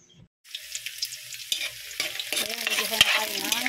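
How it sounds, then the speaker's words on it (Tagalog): After a brief silence, onion and garlic hit a hot pan for dinuguan and sizzle, the crackle building as scattered clinks and scrapes of a stirring utensil sound close by. "Ayan, igisa na tayo ng sibuyas"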